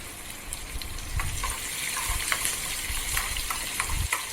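Finely chopped onion and a pinch of asafoetida sautéing in hot oil for a South Indian breakfast chutney, a steady close sizzle with light stirring scrapes and occasional soft taps, no talk.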